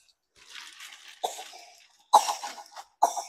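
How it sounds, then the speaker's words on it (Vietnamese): A man coughs three times in short, harsh bursts close to the microphone, each separated by a brief pause, with no talking. "Anh lại ho rồi."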